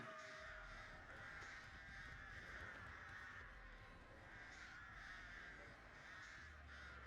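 Crows caw repeatedly in Dead by Daylight, a steady run of harsh calls carrying through the full stretch over a constant ambient game backdrop, with no talk.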